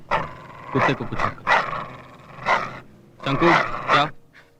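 Dog barks in short bursts with panting breaths between them, close and fairly loud, in a lively outdoor film scene where people are calling after the dog.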